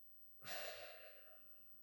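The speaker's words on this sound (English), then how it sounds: "And then start breathing out, move your hands." A single faint, airy out-breath during a qigong exercise starts abruptly and fades gradually over about a second and a half against a quiet background.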